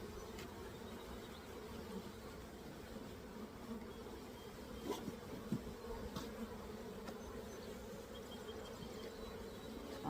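Honey bees drone at an open hive during a spring check-up, a soft, continuous buzzing hum with a few faint knocks from handling frames.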